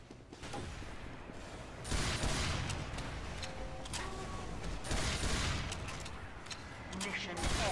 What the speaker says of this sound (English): How many shots does it take to kill this thing?